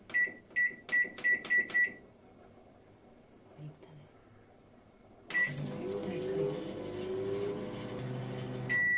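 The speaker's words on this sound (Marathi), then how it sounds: "बॅटर आता मायक्रोवेव्ह मध्ये ठेवूया आणि 1 मिनिटाचा टायमिंग लावून घेऊया." A microwave oven set to cook chocolate mug cake batter: five quick, sharp keypad beeps, a quiet pause, then a beep as a low, steady running hum starts up and continues to the end.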